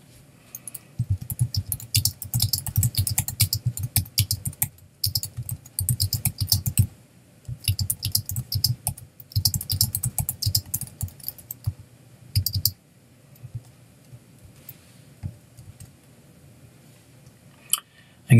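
Rapid typing on a computer keyboard comes in several dense bursts of clattering keystrokes separated by brief pauses, ending with a few scattered clicks, close and clear without speech.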